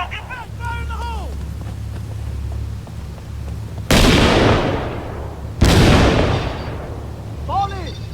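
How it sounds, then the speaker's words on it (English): Two loud C4 breaching blasts in the Six Days in Fallujah video game, each a sudden booming burst that tails off, spaced about two seconds apart, with birds chirping faintly before and after. "Plant C4 there, I'm gonna plant C4 here. Fire in the hole!"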